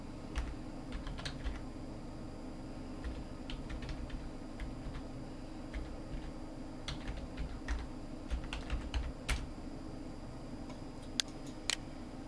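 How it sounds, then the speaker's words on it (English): Quiet, rapid tapping of keys on a computer keyboard as a website address is typed, irregular clicks close by over a low background hum. "I'm just gonna type in the website itself."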